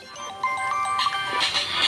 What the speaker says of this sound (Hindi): फोन एक मिनट फोन आ रहा है।